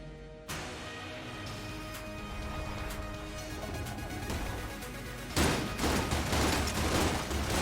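Continuous gunfire from Enter the Gungeon: a rapid, rattling stream of shots starts abruptly, then swells into a louder, denser volley with crashing impacts for the last couple of seconds. No talking.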